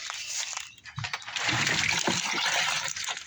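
Water draining out of a lawn mower outdoors, a steady splashing trickle that starts faintly and then pours continuously, fairly close.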